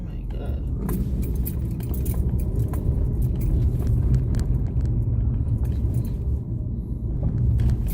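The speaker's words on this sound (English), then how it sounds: "And a truck is coming, and he is coming right at me." A truck approaches head-on along a busy two-lane road between Yallahs Bay and Lyssons Beach in St. Thomas, Jamaica. It is heard as a steady, loud low rumble of engine and road noise from inside a moving car, continuous for the whole stretch.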